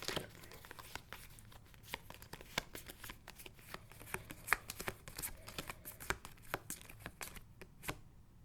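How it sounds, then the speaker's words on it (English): A deck of tarot cards is shuffled by hand, giving quiet, rapid papery crackles and snaps in an irregular flurry, up close and with no talking. "And now I'm going to shuffle them."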